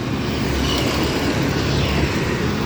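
Traffic moves across the busy Vaigai River bridge in Madurai, with a dense, continuous rumble of passing cars and motorbikes heard nearby, steady throughout with no speech.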